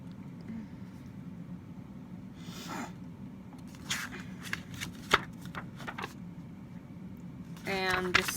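The paper booklet of a CD, oddly textured and with a white inner casing, is handled with soft crinkling, rustling and a few sharper paper snaps, close by and fairly quiet.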